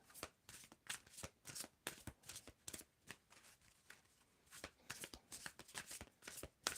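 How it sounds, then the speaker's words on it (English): Tarot cards are shuffled by hand in quick, rhythmic riffling bursts, close and soft, with no talking. "Asana, I want you to tell me when to stop shuffling."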